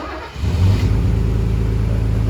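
A classic car engine, either a Mercedes W126 280SE or an Alfa Romeo GTV, running loud and close after being restarted following ten years of storage, revving up briefly and then holding a deep, steady drone.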